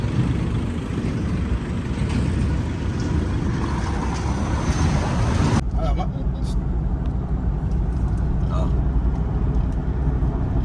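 Steady engine rumble and road noise from a car moving on the Samruddhi Mahamarg expressway, continuous throughout, with a voice talking over it.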